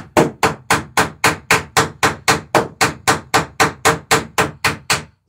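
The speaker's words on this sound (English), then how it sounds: "get right up in here and swing a hammer pretty good." Steady rapid hammering of rivets on an Alpha Dory wooden boat, about sixteen sharp, loud, evenly spaced blows in quick rhythm, close by with no talk.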